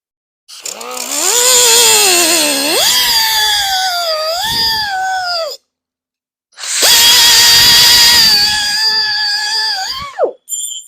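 A loud power tool screams as it cuts through a metal throttle part on a John Deere 1025R tractor in two long, sustained bursts with shifting pitch, separated by a brief pause.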